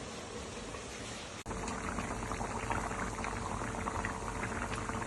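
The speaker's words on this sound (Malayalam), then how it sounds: "കറി നല്ലതുപോലെ തിളച്ചിട്ടുണ്ട്." Steady bubbling of chicken curry boiling in a covered pot, continuous and close, with a brief dip near the start and no voices.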